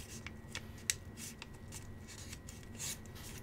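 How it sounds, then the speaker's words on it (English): Origami paper unit being rotated and folded upward for a swan, giving soft, continuous rustling and rubbing with a few brief crisp crinkles, close and quiet, no talk. "So I'm just going to rotate the unit a little bit like this and fold it upwards."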